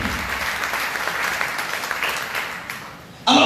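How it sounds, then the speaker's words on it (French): Church congregation clapping together during a Sunday worship service, a dense, steady applause filling the room for several seconds before fading slightly, then a sudden louder burst at the end. "Acclamons le Seigneur."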